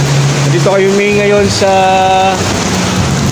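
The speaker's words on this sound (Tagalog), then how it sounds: "sumilong muna kami at lumakas ang ulan" Heavy rain pours down as a steady, loud hiss around a Barangay Hall in Trece Martires City, where riders shelter during a charity ride, while someone talks over it.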